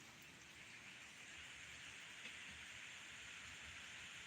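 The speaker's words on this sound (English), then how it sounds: "Sounds like it's picking up rain a little bit." Light rain falls outdoors in a garden on a farm, a faint, steady hiss of drops with no talk over it.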